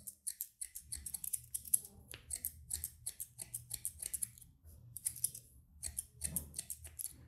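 Thinning scissors snipping through straightened hair during a haircut, a steady run of close, crisp metallic snips in quick irregular rhythm, with faint low handling noise underneath.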